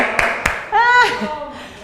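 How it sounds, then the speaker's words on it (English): Two sharp, close hand claps from an exercise mat class ring out in quick succession, then a person speaks right after them. "Sandra, we give you a hand clap too."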